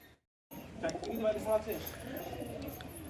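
A pigeon lands near a house, with soft cooing and fluttering partly masked by someone talking over it.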